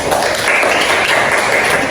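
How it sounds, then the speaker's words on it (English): Steady classroom applause from a group of 10th-grade English students, dense, even clapping held for a couple of seconds at close range. "Give applause for Dani"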